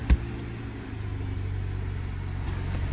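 A race car with a clogged catalytic converter starts with a short thump, then settles into a rough, steady low rumble nearby, heard alone without talk.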